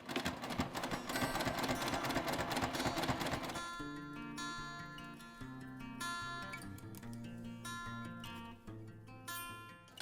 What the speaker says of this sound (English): I'm going to start right before that fold and then sew along.